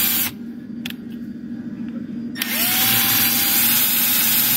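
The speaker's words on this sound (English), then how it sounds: "I can just drill right through the whole thing" A power drill with a 1/8 inch bit whines up and bores steadily through a wooden drum shell, the motor loud and continuous after a brief quieter start.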